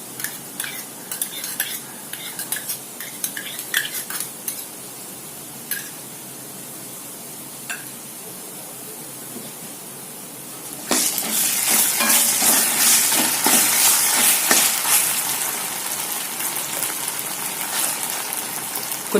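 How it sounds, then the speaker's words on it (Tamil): A spoon stirs and scrapes ginger garlic paste frying in a pan for vada curry, with light clinks and a steady sizzle that turns into a louder, fuller frying hiss partway through, and no voices. "இப்போ நம்ம இஞ்சி பூண்டு பேஸ்ட் போட்டுக்கலாம்."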